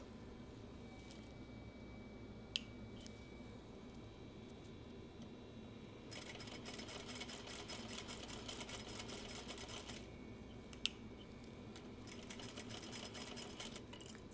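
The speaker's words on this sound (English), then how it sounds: "I think I can do one more stitch here." A domestic sewing machine stitches in two steady runs of rapid mechanical chatter, separated by a quieter pause with a couple of sharp clicks, captured at low level in a sewing room.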